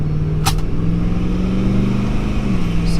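A twin turbo V8 Landcruiser engine drones steadily and loudly from close by as it runs through the gears, its pitch holding nearly level with a slight rise and dip and a short sharp click near the start.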